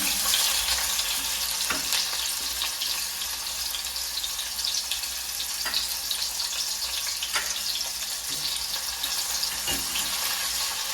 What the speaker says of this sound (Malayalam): നമുക്ക് ഉള്ളി ഒന്ന് പൊരിച്ചെടുക്കാം